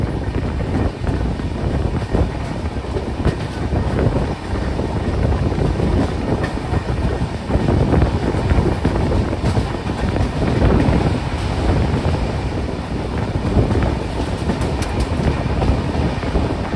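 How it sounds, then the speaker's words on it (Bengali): Passenger train running after pulling out of Thiruvananthapuram Central, a steady loud rumble with rhythmic wheel clatter and wind buffeting heard from inside the coach. "আর আমাদের স্টেশন থেকে ট্রেন ছেড়ে দিয়েছে"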